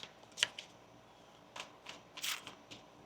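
Tarot cards being shuffled close up, several quick crisp riffling bursts with short pauses between them in a quiet room.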